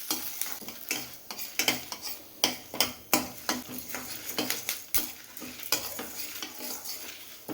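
Dal frying in a pan with a sprig of curry leaves for banana stem chutney, crackling and sizzling as a spoon stirs and scrapes in quick repeated strokes, close and fairly quiet.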